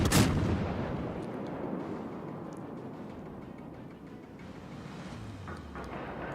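A loud naval gun salvo from the USS Helena cruiser in World of Warships booms at the start, then rolls into a long fading rumble over ocean ambience, with a faint engine hum near the end.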